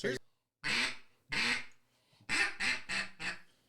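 A person's voice imitates a duck quacking: a single short call, two drawn-out quacks, then four quick ones in a row, close and clear.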